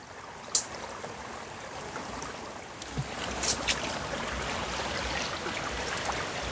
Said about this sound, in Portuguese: atravessando aqui o riacho, com os pés na água